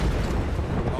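A grenade blast in Apex Legends gives a short, heavy rumbling boom with a dense low roar, loud and close throughout.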